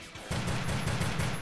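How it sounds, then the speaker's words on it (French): Rapid gunfire from the video game Brotherhood United, a dense sustained burst of shots starting abruptly after a brief quiet moment and continuing loud and steady. "Le bruit des balles, il est cool."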